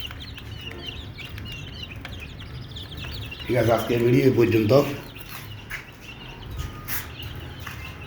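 Eleven-day-old chicks peep with thin, high chirps throughout, fairly faint, while a person speaks briefly in the middle.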